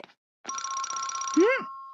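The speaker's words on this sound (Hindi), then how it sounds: "ये जरूर शिजुका का फोन होगा।" A telephone rings in a Doraemon cartoon, giving a steady electronic tone that ends with a quick warbling sweep, clear and close.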